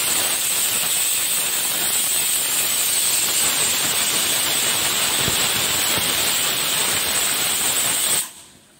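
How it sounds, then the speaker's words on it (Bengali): Jackfruit pieces boiling in a pot of salted, turmeric-tinted water give off a loud, steady hissing rush of steam and bubbling that runs unbroken before cutting off abruptly near the end. "এঁচোড়টাকে নুন হলুদ দিয়ে সেদ্ধ করতে বসিয়েছি।"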